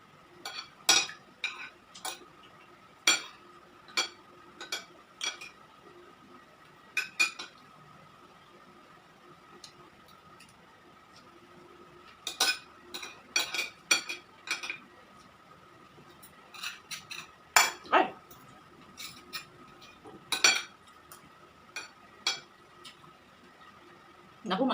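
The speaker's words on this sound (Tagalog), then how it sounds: "maingay na naman itong kutsara ko" Metal spoon clinking against a plate during a meal of bulalo, sharp scattered taps in irregular bursts, close and fairly quiet over a faint steady hum.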